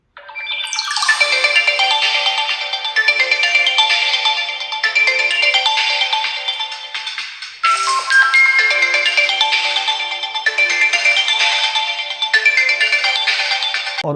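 Ringtone melody played loudly through the dual speakers of a Vivo Y19s smartphone, a bright repeating tune that runs continuously, restarts once midway, and is heard alone without talk.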